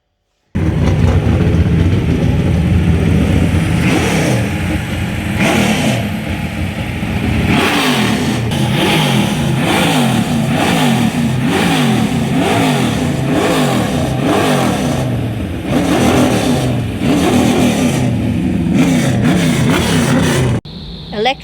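A Holden VK VL NASCAR engine on a dyno revs hard again and again, its loud mechanical roar climbing and falling in repeated bursts with no voices over it.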